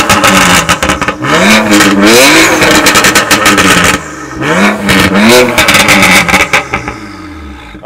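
A BMW 135i engine with a stage 3 tune and decatted exhaust revs hard through a loud exhaust, rising and falling in two bursts with crackling pops, close and very loud, no talking.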